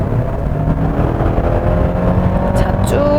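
Engine of a 2023 Hyundai Santa Fe with an 8-speed automatic, heard from the cabin as it accelerates in sport mode: a loud, continuous drone that holds high revs and climbs in pitch near the end.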